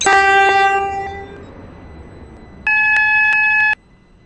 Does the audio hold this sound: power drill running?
no